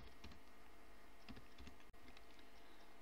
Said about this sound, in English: So I will type bio data.